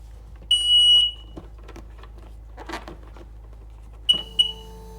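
A replacement beeper on a Sea-Doo personal watercraft sounds during a test: one sustained high beep, then after a pause two short beeps in quick succession, close and clear over faint handling noises.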